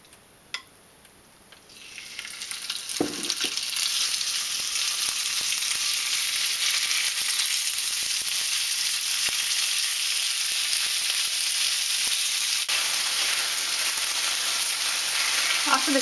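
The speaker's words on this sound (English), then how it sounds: "And then we need to cook the beef strips." Beef strips for a pepper steak pie sizzle in a hot pan, a bright continuous frying hiss that swells after a quiet start and holds steady, with a few faint clinks of utensils.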